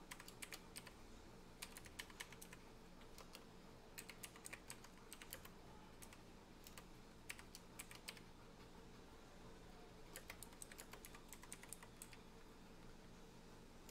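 Typing commands on a computer keyboard while setting up DOSBox for a game install: steady, quick clicking keystrokes in uneven bursts with short pauses, fairly faint over a constant low hum, no talking.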